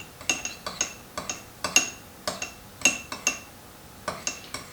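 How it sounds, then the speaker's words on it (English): A teaspoon clinks gently against a bowl while tofu marinade is mixed, giving a slow, irregular series of light metallic taps, close and clear, with no talking. "get yourself a teaspoon and mix it really gently"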